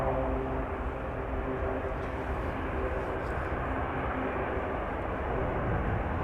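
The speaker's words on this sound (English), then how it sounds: "Another bizzjet, turboprop taking off." A Pilatus PC-12 turboprop taking off at Amsterdam Schiphol, a continuous engine drone with faint tonal hum, steady and moderately distant across the whole stretch, no voices present.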